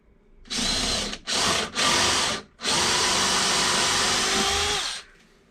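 A power drill drives screws into a glued, clamped overhead cupboard in a Fiat Ducato campervan conversion, in three short loud bursts followed by one long sustained whir, close and with no talk.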